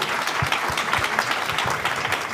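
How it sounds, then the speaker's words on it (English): Live audience at a public radio member night with a local podcast team gives a warm round of applause, dense clapping from many hands, moderately loud and steady, with a few individual claps standing out. "let's give them another round of applause."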